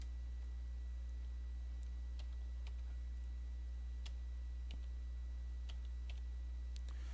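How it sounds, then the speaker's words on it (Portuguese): A verification code being tapped in: sparse, soft clicks like keyboard keys pressed one at a time at an irregular pace, faint over a steady low hum. "Digitando o código"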